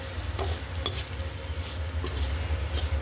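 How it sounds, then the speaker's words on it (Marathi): Grated coconut and potato being stirred in a frying pan, a soft sizzle with light spatula scrapes and a couple of clinks against the pan, close and fairly quiet. "आता याच्यात टाकू आपण हे कीस खोबऱ्याचा याचा बटाट्याचा कीस आणि हलवून घेऊया."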